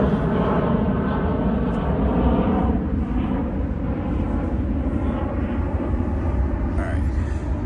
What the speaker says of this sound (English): Oh, it's an airplane going by.